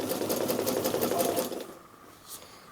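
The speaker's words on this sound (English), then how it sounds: "It's easier just to roll and sew" Sewing machine stitching a rolled hem on fabric for a utility bag, a quick close rattle of needle strokes for about a second and a half before stopping, leaving faint handling sounds.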